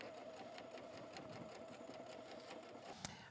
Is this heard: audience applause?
no